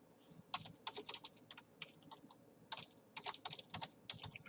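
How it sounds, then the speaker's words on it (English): Rapid keystrokes on a computer keyboard while a translation is typed into SDL Trados Studio, clicking in quick uneven bursts with short pauses, close and fairly quiet, no voices. "you continue typing your translation"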